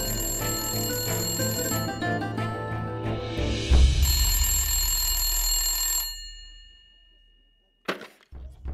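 An old-style telephone bell rings loudly in repeated bursts, then stops and fades to near silence before a brief knock.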